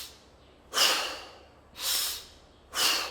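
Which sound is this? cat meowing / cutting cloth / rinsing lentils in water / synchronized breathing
synchronized breathing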